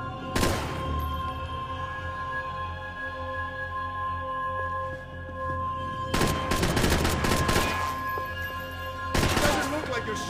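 Gunfire in the video game Max Payne 3 comes in three loud bursts of rapid shots, one early and two later, separated by a quieter stretch of steady tonal hum and ambience, close and punchy.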